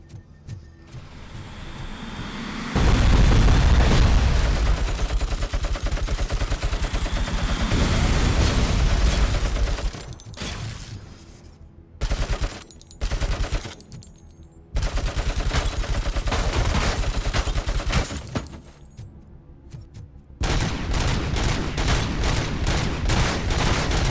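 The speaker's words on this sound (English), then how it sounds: "Heavy machine gun, that'll do." Heavy machine gun firing in RoboCop: Rogue City, loud sustained bursts of rapid gunfire broken by short pauses, then resuming in long stretches; no talking.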